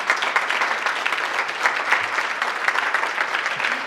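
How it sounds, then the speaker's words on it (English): Room audience at a political candidate forum applauding, a steady, fairly loud mass of claps that holds at an even level throughout. "So big applause for our candidate"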